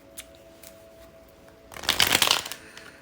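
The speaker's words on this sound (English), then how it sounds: "As slow as I am shuffling." A quick burst of playing cards being shuffled, riffling brightly for under a second after a quiet stretch with faint taps.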